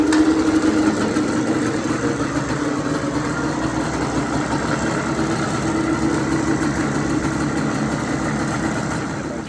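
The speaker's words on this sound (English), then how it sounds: "Alright, so I got the quad running." 1998 Yamaha Banshee quad with its engine running, a steady close idle drone with a constant low hum that stays level for the whole stretch, no talk over it.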